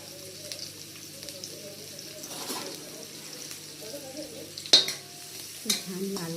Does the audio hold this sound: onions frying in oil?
yes